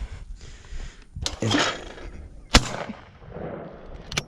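A Winchester 101 XTR shotgun fires once at skeet outdoors, a single sharp loud report standing out from background noise and a brief murmur of voice before it.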